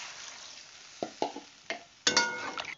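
Water hits a pan of frying cauliflower and egg curry, giving several sharp sizzling bursts, with a loud hissing surge near the end.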